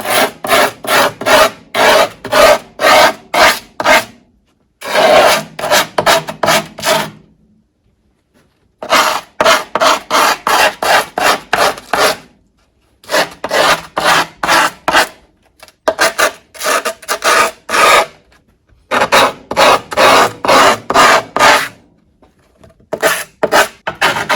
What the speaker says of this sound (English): I'm grabbing just a Craftsman chisel and I'm going to scrape the edge of the board.